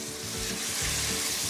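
Tomato frying in a pan with oil for a sofregit, a loud, steady close sizzle with crackling and some stirring, with no talking.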